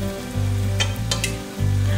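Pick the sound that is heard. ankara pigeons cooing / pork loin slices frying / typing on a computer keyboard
pork loin slices frying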